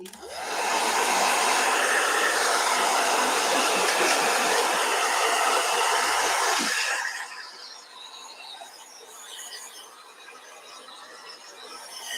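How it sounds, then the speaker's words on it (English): A loud blow dryer roars steadily for about seven seconds, then cuts off, leaving quieter background noise. "So let me blow dry real quick. Blow dryer."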